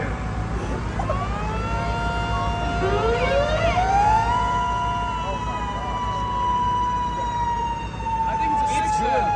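Mini siren sounding off at SirenCon at Camp Tesomas in Rhinelander, Wisconsin: a rising wail that climbs and then holds a steady high tone, heard outdoors at moderate distance over constant background noise and faint overlapping sirens.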